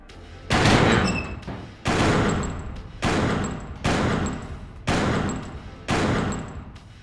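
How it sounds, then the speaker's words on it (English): Six loud, evenly spaced bursts of gunfire ring out at a school locker in the Killer7 video game, each a sharp broadband crack with a ringing tail, about one shot per second with no talking. "Shoot the open locker."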